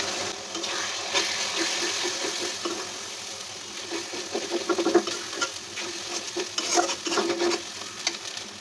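Ginger-garlic paste with chilli, turmeric, cumin and coriander frying in a pan for a home-style chicken curry, a close sizzle with busy stirring scrapes growing more active midway, no voices.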